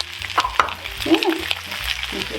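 Asparagus cooking in olive oil with salt and pepper in a pan, a soft crackling sizzle with a few knocks and a shaken-pan rattle, close and fairly quiet.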